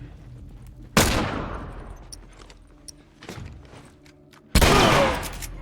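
Gunshots in the video game The Last of Us: three sharp, loud blasts spaced a couple of seconds apart, each with a decaying tail, over a quiet game background.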